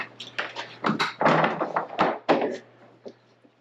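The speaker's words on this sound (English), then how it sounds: "I think we can put the door back up now." A folding door is fitted back into its overhead track, producing a close series of irregular wooden thunks, taps and knocks that bunch together and then taper off to a few soft bumps.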